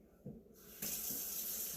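Cold tap water starts gushing loudly and steadily over a head of broccoli under a faucet, after a few soft knocks.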